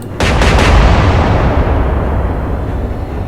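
A salvo from naval guns in the naval warfare game Atlantic Fleet, Royal Navy against Kriegsmarine, lands as a loud, sudden booming blast that rolls into a long rumbling decay over a few seconds, heavy and close with no talk.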